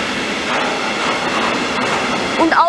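A freight train hauled by an IGE locomotive passes at Gemünden, pulling tank wagons from OnRail and other firms, with steady loud rolling rumble and rail noise throughout and a brief squeal near the end.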